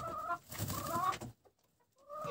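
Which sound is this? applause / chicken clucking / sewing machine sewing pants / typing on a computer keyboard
chicken clucking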